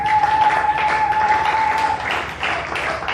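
A church congregation breaks into loud, sustained applause during a sermon, a dense wash of clapping that carries on without pause and a steady tone sounding through the first two seconds.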